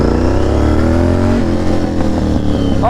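A Honda VTR 1000cc V-twin motorcycle engine revs loud and close, its deep throbbing note rising in pitch and then settling, continuous throughout with no talking.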